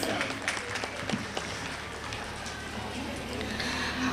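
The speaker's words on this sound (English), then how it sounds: "please give him a heartfelt welcome with a big round of applause" Audience at a school annual day event applauding to welcome a guest, a leading criminal advocate; steady, fairly faint clapping from a crowd with scattered sharper claps throughout.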